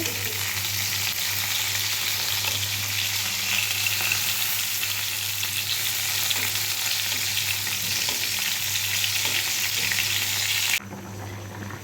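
Pieces of fish fry in hot oil in a home kitchen, destined for a tomato fish curry: a dense, loud crackling sizzle runs steadily for about eleven seconds with a low hum beneath, then drops away abruptly near the end.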